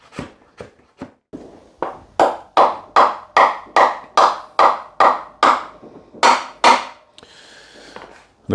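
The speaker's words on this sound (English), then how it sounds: "put a block of wood just on the other side, tap it with a hammer, and you can see it coming out on the other side" A hammer strikes a block of wood set against a Harley-Davidson Pan America's rear axle to drive it out: a steady run of about fifteen loud, ringing close taps at roughly two per second, slowing toward the end.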